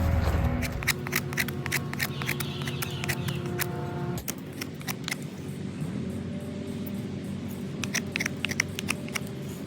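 A curve is cut into a piece of crepe myrtle wood being shaped into a bow drill spindle, heard as a close series of quick, dry rasping strokes that keep a steady rhythm, with a short pause partway through.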